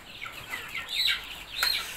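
Several Shamo and Indio Gigante chickens clucking and chirping softly at a short distance on a chicken farm, a few bursts rising over steady farmyard background noise, with no voices.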